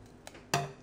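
A kitchen knife cuts through a morning glory vegetable stalk: a faint tap, then one crisp, louder crunching cut that quickly fades.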